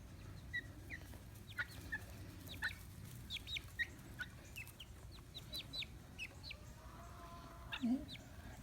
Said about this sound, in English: They are happy chicks.